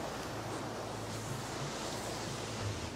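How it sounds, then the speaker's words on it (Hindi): Rushing white-water river fed by glacier melt from the snow-capped Andes, a steady broadband roar of fast-flowing water, constant and fairly close, with no voices. "बहते पानी की आवाज तेज होती जा रही है"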